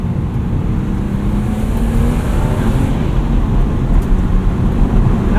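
A 1995 BMW E36 M3 Lightweight drives along with a steady engine drone and a faint rising tone under heavy road and wind rush, heard from inside the car with no talking.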